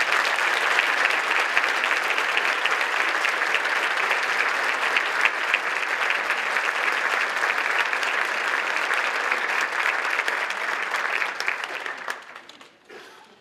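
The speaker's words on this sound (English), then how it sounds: "Let's give them a round of applause." A luncheon audience at an awards celebration gives sustained, loud applause for about twelve seconds, a dense even wash of clapping that tapers off abruptly at the end.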